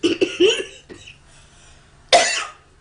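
A few short, harsh coughs up close, a quick cluster at the start, then a pause and one more forceful cough.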